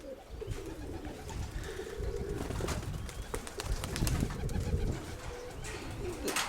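Pigeons coo repeatedly inside a dovecote, their soft throaty calls overlapping close by against a busy background of rustling, fluttering and scattered chirps.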